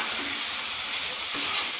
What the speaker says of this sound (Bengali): সঙ্গে টমেটোটা দেবো, একটু কষাবো